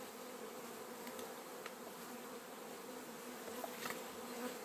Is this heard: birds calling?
no